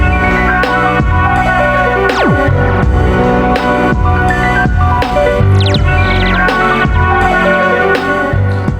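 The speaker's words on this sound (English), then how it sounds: "to have just a little trickle of that laser dub sound" A few quick downward laser zaps sweep through a busy, loud track of music, appearing briefly and sparsely among the beat.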